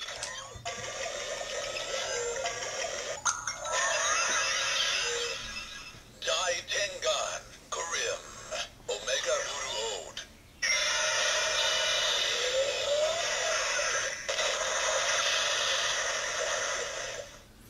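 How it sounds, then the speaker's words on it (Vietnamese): Kamen Rider Ghost DX Mega Ulorder transformation toy playing its Grim Icon electronic sound effect, a loud stretch of bright synthesized music and effects with several short breaks midway before resuming steadily. "Và đó là âm thanh của chiếc Grim Icon."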